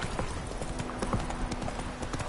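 Roach, a horse in The Witcher 3, trots with steady clip-clop hoofbeats, a close rhythmic stream of hoof strikes with a faint tonal hum beneath.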